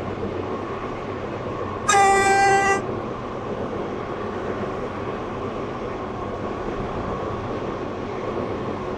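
A class 730 train horn in a railway video game sounds one loud harmonic blast lasting about a second, rising over the steady rumble of the train running into a station.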